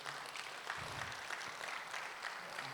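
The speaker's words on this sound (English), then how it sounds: "can I have a round of applause" Audience applause at a corporate unveiling ceremony, a steady wash of clapping throughout, moderately loud and continuous with a brief low murmur of voices partway through.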